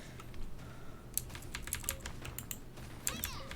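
Computer keyboard keys clatter during Genshin Impact play: irregular quick clicks and taps, some sharper strikes, close and moderately loud over a faint steady background hum.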